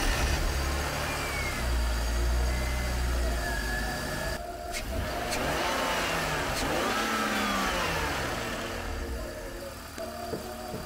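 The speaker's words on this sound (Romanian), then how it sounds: "Motorul pare să meargă în regulă" A BMW E46 car engine runs steadily and revs up and down, its pitch rising and falling, with a mechanical whine over a continuous rumble.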